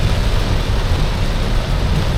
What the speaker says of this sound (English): Some serious rain going on